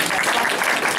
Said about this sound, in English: you clap for that for sure.